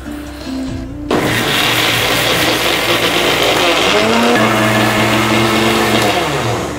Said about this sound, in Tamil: நம்ம உளுந்து நல்லா அரைக்கணும்.